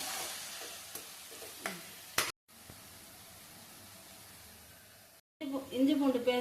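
Sliced onions fry in a pan, browning for a chicken thokku. A soft, steady hissing sizzle is punctuated by a few faint stirring clicks, with brief cuts and a voice rising near the end.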